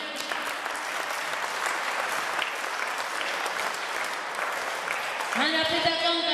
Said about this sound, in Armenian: եկեք ծափահարենք բարձրագույն նվաճումների բաժնի պետ Արթուր Սեփրակյանին